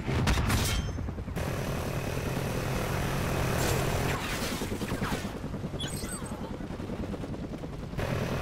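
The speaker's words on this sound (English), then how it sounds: "Friendly chopper inbound." Helicopter arriving in the video game Call of Duty Ghosts, a steady rotor and engine drone under dense gunfire bursts and game voice callouts, loud and continuous.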